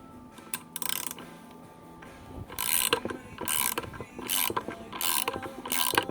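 A 1/2 inch ratchet screwing down a Harbor Freight pulley tool, giving close, rapid bursts of metallic clicking in repeated strokes with short pauses between, and no voices.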